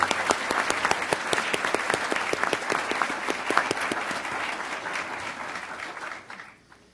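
An audience at a formal school board meeting claps for a student's family, with a steady, fairly loud round of applause that holds and then dies away abruptly near the end.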